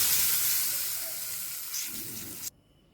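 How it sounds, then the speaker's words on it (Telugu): A loud hiss of hot oil tempering poured into tamarind soup fills the start, slowly easing, then cuts off abruptly, leaving a faint quiet background. "ఈ తాలింపుని మనం ఇందులో పోసేసుకోవాలి"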